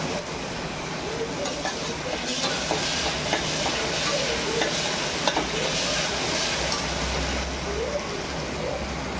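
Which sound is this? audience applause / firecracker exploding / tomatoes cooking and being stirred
tomatoes cooking and being stirred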